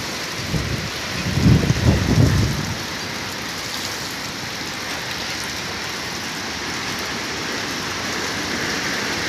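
Heavy rain pours steadily during a typhoon, with a deep rumble of thunder or strong wind gusts swelling early on and fading into a constant wash of rain.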